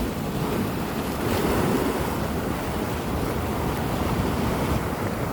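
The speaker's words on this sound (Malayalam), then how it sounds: "അങ്ങനെ തട്ടിയിട്ട് കടലാട്ടാ, ഇച്ചിരി കടൽ കൂടുതലാണ്" Rough sea surges against a rocky shoreline at Chembarika, Kasaragod, making a dense, continuous roar of surf mixed with wind buffeting, loud and unbroken with no voices.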